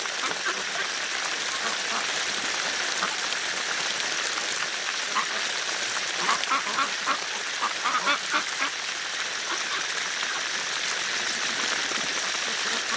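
Ducks gathered at a pool in winter quack in scattered bursts, their calls spread over a steady, loud hiss of spraying water that runs throughout.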